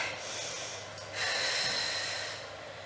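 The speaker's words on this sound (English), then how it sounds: "Taking a deep breath." A single deep breath taken during a rest between workout exercises, a close, airy nasal inhale swelling into a longer exhale, with no talking.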